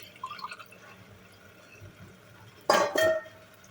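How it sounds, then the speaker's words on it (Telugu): After a quiet stretch, water is poured onto rice in two short, splashy gushes close by. "ఒక గ్లాస్ బియ్యానికి వన్ అండ్ హాఫ్ గ్లాస్ నీళ్లు పోసుకోండి"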